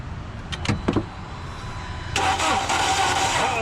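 A 2006 Audi A4 2.0L that stalled while driving is cranked over: a couple of faint clicks first, then the starter spins the engine with a steady, loud whirring grind to the end.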